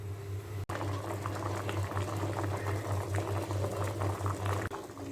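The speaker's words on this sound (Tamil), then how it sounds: "இப்போ அடுப்பில் வந்து கொதிக்கிறதுக்காக தீ பற்ற வச்சிட்டோம். ஸோ இது நல்லா கொதிக்கட்டும்" Water bubbles and rolls at a boil in a pot, a constant churning simmer with a low steady hum beneath, close by and uninterrupted.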